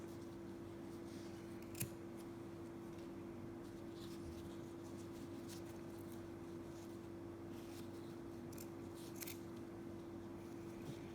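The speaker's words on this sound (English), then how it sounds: "I am going to cut my tails." Scissors snipping ribbon tails for a candy apple bow, a few sparse crisp cuts spread out over a steady low hum, close and fairly quiet, no talk.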